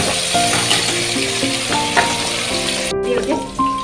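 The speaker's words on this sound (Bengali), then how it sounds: "প্রথমে মাছটাকে একটু ভেজে নেব, তারপরে ওইগুলোকে আস্তে আস্তে ভেজে রান্নাটা কমপ্লিট করে নেব।" Fish frying in a pan hisses with a continuous close sizzle, along with light stirring scrapes and a few brief tonal clinks, and no one speaks.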